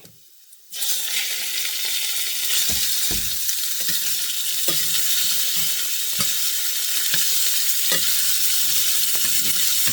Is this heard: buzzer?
no